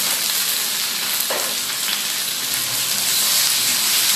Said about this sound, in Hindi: हरी मिर्चों के साथ इसको हल्का सा हम फ्राई करते हैं